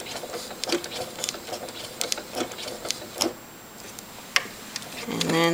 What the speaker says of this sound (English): I'm going to carefully try to sew into the first couple of stitches, like right in those same holes